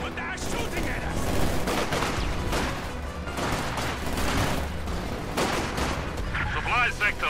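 Dense gunfire from a World War II battle in the Company of Heroes 2 video game, a loud, continuous wash of rifle and machine-gun fire with shouting voices mixed into the din.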